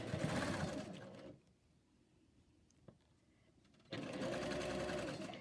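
A sewing machine stitches a seam a needle width from a folded edge, running in a fast steady burst, pausing for a couple of seconds with a small click, then running again close by.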